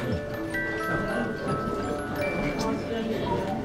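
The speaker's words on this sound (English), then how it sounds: "This is our romantic cuckoo clock." A cuckoo clock at the Kuckucknest in Breitnau, Baden-Württemberg, ticks steadily in an even rhythm, close and moderately loud amid background room noise and voices.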